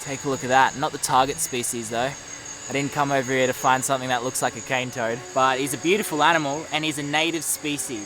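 Night insects, likely crickets, chirp steadily in riverside jungle, a continuous high shrill layer running beneath someone talking close by throughout.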